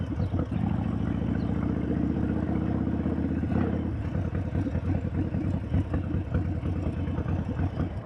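A 2013 Harley-Davidson Sportster 1200 Custom with Vance & Hines Short Shots pipes rumbles loud and close, a steady throbbing exhaust that loosens into an uneven, pulsing beat as the bike pulls away.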